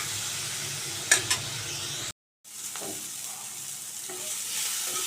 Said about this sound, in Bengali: এবার মশলাটাকে আমার ভালো করে কষিয়ে নিতে হবে